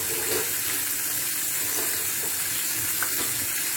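Fish fingers shaped like prawns fry in hot oil with a dense, continuous sizzle that stays at an even level and close by throughout, with no talking.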